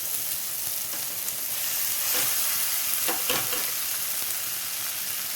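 Chow mein noodles are stirred in a hot pan with fried onion and tomato, sizzling steadily at close range with a few louder scraping stirs partway through.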